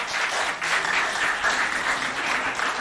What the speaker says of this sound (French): Applaudissez-vous bien fort, s'il vous plaît.